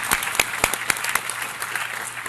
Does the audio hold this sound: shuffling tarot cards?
no